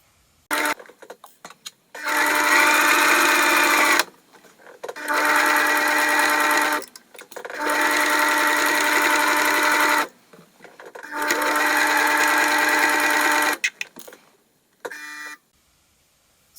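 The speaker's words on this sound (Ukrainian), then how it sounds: "Кладемо лице к лицу, шиємо по діагоналі." A sewing machine stitches patchwork pieces along a diagonal in four long, steady whirring runs. Short pauses and soft handling clicks separate the runs, and the machine sounds close and clear.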